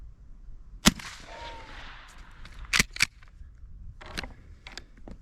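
A Winchester Model 62a rifle fires outdoors on a windy day: one loud, sharp crack, then a quick pair of cracks and a fainter report, each a brief dry snap over steady wind noise.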